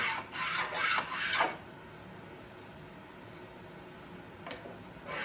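Sharpening stone rasping over burrs on a Harbor Freight mini mill column, three quick scraping strokes at the start, then a quiet pause and one faint short stroke near the end, close and dry.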